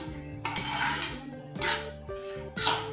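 Wheat flour roasting in ghee in a pan over a low flame for atta halwa, heard as repeated clinks and scrapes of a metal spoon stirring against the pan in several distinct bursts, close by.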